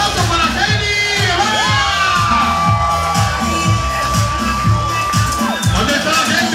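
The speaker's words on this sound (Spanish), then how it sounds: "¿Dónde está el aplauso para Kelly?" At a bikini contest, a crowd cheers, whoops and shouts with applause mixed in, a loud continuous roar as a live announcer's amplified voice carries over the noise.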